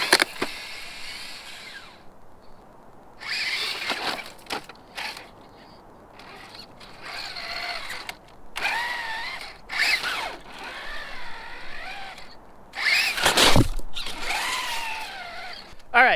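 A Traxxas TRX4 Bronco RC truck fitted with a Hobbywing Axe motor makes several full-throttle pulls, giving bursts of whirring motor and drivetrain noise between quieter stretches, and the loudest burst comes near the end.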